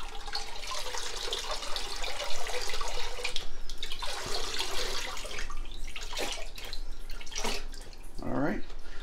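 Beef broth pours into a stew pot that is nearly full, making a steady, continuous liquid rush with a few brief splashes near the end.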